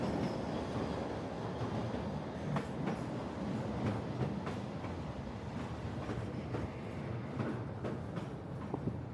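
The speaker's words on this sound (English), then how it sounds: "film this shot of a train leaving and another train entering" A train on the Ishiyama Sakamoto Line by Lake Biwa, Kyoto, leaves and enters a station, a steady, fairly distant rumble with repeated wheel clatter and clicks throughout.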